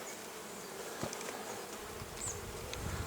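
Bees hum steadily around a frameless beehive, a soft, continuous close buzz with a few louder passes of individual insects near the listener.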